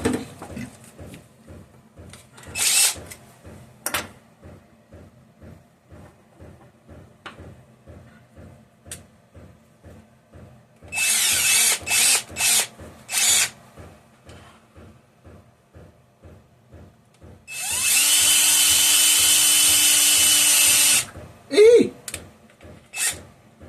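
Power drill boring through a Homelite XL12 chainsaw part, stepping up one bit size at a time, with several separate loud whining bursts of drilling between quieter handling noises, the longest run lasting a few seconds.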